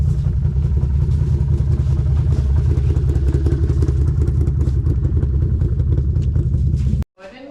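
A four-wheeler engine runs steadily in snow on a farm, a loud, close, continuous clattering drone that holds constant before cutting off abruptly near the end.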